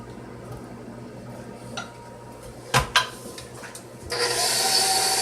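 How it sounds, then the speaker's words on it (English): Dry chocolate cake ingredients mixed in a bowl, with a couple of sharp clinks of a utensil against the bowl followed by a steady rustling stir, close and without talk. "I'm making sure all the dry ingredients get mixed. And then I'm gonna give it a good mix."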